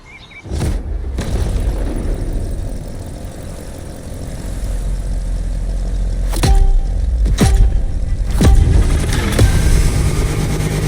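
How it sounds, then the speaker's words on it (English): A DeLorean built as a drift car in The Crew Motorfest, a loud engine roaring steadily through a drifting run, broken by several sharp clacks and gear-shift bursts as the revs climb. "A drift machine out of a DeLorean? That's a proper drift."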